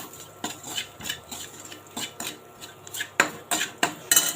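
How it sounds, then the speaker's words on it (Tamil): Dry masala mixed into samosa filling, a close series of irregular metallic scrapes and clinks of a spoon against a bowl, with soft stirring between the louder knocks. "இதையும் சேர்த்து நல்லா மிக்ஸ் பண்ணிக்கலாங்க"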